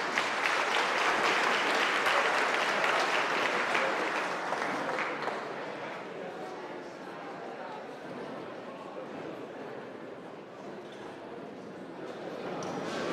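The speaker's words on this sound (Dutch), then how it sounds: "Maar eerst vraag ik uw aandacht en ook uw applaus voor burgemeester Salet van Nissewaard." A large audience at a New Year reception applauds the mayor of Nissewaard, a dense wash of clapping that is loudest for the first five seconds, then eases a little and carries on steadily to the end.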